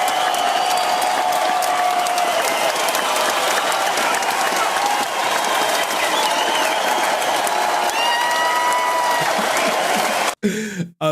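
Loud, sustained audience applause fills the room with some whoops and voices, continuing steadily for about ten seconds before cutting off abruptly.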